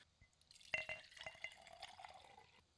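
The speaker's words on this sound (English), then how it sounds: "So let's get a better pouring recording." Liquid is poured into a glass, with a brief trickle building into soft splashing and dripping for about two seconds, close and quiet in an otherwise still room.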